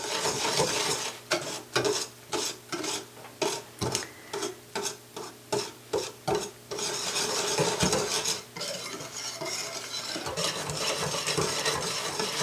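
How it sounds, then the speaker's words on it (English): A whisk beats peach cobbler crust batter in a bowl, a steady series of quick rhythmic scraping strokes against the sides, close and fairly loud, then looser continuous stirring toward the end with no talking. "So you want to just whisk this together"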